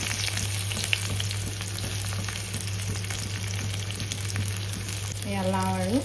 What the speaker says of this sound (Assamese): মাছ ভজা কেৰাহীখনতে এতিয়া লাওখিনি ভাজি ল'ম